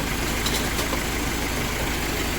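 A Tempo Traveller FM2.6 van's CRV diesel engine idles with a steady, loud, broadband rumble and continuous vibration, close up and unchanging, with no voices.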